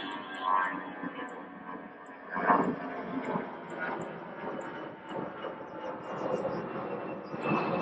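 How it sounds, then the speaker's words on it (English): A broad, distant roar of an airplane passing overhead swells and fades outdoors, with faint background noise. "Airplane flying overhead."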